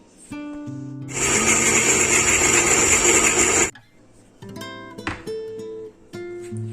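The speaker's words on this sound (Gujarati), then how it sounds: "મિક્સર ચાલુ કરીને" A kitchen mixer whirs loudly for a few seconds, grinding dates and figs in a little milk steadily before cutting off, with music playing softly around it.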